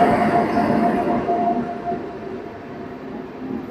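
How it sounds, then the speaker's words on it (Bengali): The Puri–Anand Vihar Terminal Nandankanan Superfast Express rolls in at a station platform, a loud rumbling roar with a faint thin squeal that gradually eases and quiets. "নন্দনকানন সুপারফাস্ট এক্সপ্রেস তো চলে আসলো"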